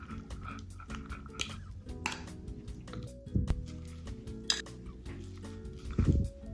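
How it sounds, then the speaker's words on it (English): Knife chopping oil-drained canned sardines into small pieces on a board while preparing high-protein lunch bites, a series of soft irregular taps and squishy knocks close up, with clinks of dishes. "So next I'm going to take the sardines, going to chop it all in small pieces."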